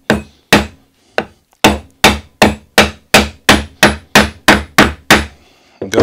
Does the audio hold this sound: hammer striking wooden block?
yes